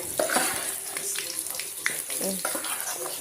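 Colocasia and curry leaves fry in a pan over a low flame. A spoon scrapes and stirs in repeated strokes over a steady, close sizzle.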